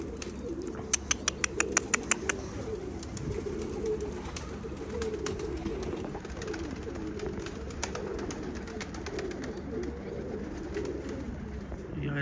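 Pigeons coo repeatedly at close range while wings flap in brief bursts, a flock of fancy pigeons kept by a handler; birdcalls continue steadily throughout with some faint background noise.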